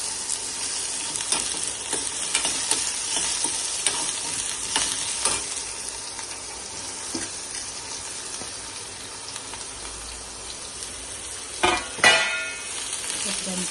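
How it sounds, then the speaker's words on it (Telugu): Bottle gourd pieces being stir-fried in a hot tempering, a steady close sizzle with scattered scraping stirs and a couple of louder clatters near the end. "పొట్లకాయ ముక్కలు వేసాం కదండి, ఇవి కొంచెం అంతా పోపు అంతా మంచిగా కలపాలి"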